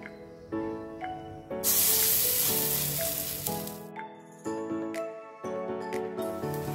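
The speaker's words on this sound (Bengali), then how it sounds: "এখন ডাল বাটা আমি বড় বড় করে দেব, যেটা বলে চাপড়।" Lentil paste patties fry in hot oil in a wok, a loud, bright sizzle that bursts in strongly and then crackles steadily, with a tonal musical backing running underneath throughout.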